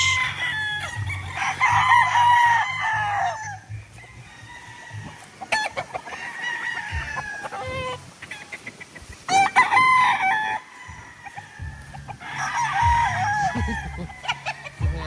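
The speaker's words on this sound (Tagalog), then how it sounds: "Manghuli tayo ng mga stag ngayon sa range." Young roosters (stags) on a farm range crow in several repeated calls close to the microphone, with clucking and scattered bird chatter between the crows.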